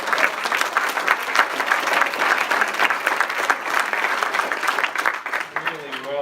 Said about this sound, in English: How about a round of applause for our president?